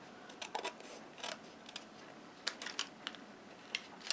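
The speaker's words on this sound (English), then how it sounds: "I just cut a little straight." Good craft scissors snipping a narrow straight strip of cardstock for a tulip card, heard as a series of faint, sharp clicks and snips in uneven bursts, quiet and close with no talking.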